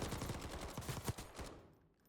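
CR-56 AMAX assault rifle firing in a video game, a rapid burst of sharp shots for about a second and a half, loud and close, then cutting off into a short fading tail.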